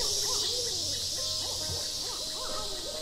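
A bird calls in the Kentucky Route Zero video game, repeating soft hooting, owl-like notes over a steady hissing ambient bed.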